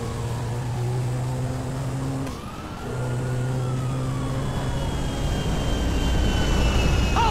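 An airplane in GTA V: a loud, steady engine drone with a sustained tonal hum, a brief dip midway, then rising whine-like tones as the aircraft seems to sweep past up close.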